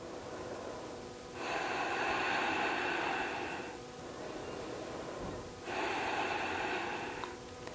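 Slow, deep breaths during a 90/90 hip stretch in yoga, two long airy inhales or exhales of about two seconds each, close to the microphone with quiet pauses between them and no talking.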